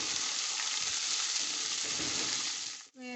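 Ginger and garlic frying in a pan give a steady, dense sizzle that holds throughout, then cuts out briefly near the end before a short stirring clatter; no one talks.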